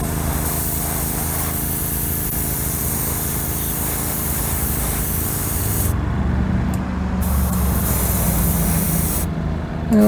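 Bright Vision paint sprayed in a wet coat onto a 1974 Hot Wheels Flying Colors Heavy Chevy Camaro: a steady, close hiss runs throughout over a low mechanical hum, with the top end briefly dropping out twice.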